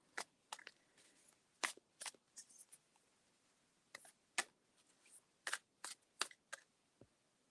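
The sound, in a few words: shuffling a deck of oracle cards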